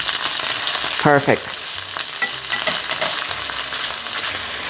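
Cabbage wedge flipped into a hot pan and searing, a steady crackling sizzle with a brief clatter as it turns over, one short spoken word from a person mid-way.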